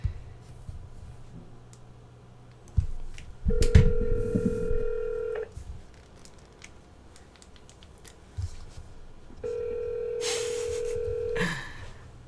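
Telephone call placed over speakerphone: a burst of keypad dialing tones, then two long ringback tones several seconds apart, moderately loud over faint room noise with no talk.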